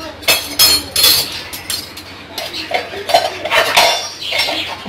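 Dishes, pots and cutlery clink and clatter in a home kitchen during washing up, a busy run of close metallic and ceramic knocks with no talk.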